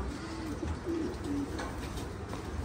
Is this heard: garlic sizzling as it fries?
no